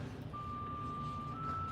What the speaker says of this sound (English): Somebody's alarm is going off.